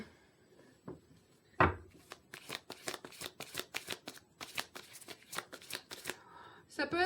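Tarot cards handled and shuffled at close range: after a thump, a long run of quick, crisp riffling and flicking bursts in uneven rhythm, fairly quiet overall, with no talking.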